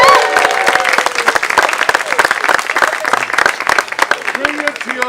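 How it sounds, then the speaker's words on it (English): A large crowd applauds wildly at a sword-wielding theatrical performance, dense clapping and cheering near and loud throughout, with voices shouting and talking over it. "Raise your swords high in the air for honor as this mob applauds wildly."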